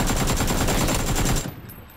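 Rapid automatic gunfire in the battle-royale shooter PUBG, a dense, loud burst of shots in quick succession that stops abruptly near the end, leaving a fading echo.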